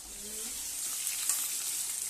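Onions frying in a pan for a meat dish give a steady, close sizzle with a soft crackle that runs unbroken under a quiet kitchen background. Nobody speaks.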